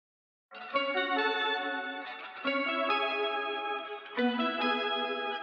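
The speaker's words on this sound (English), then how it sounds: "I like this really wavy guitar here." A wavy, chorus-drenched electric guitar in a music production plays sustained chords, entering after a short silence and shifting chords twice, steady and up front with no voices.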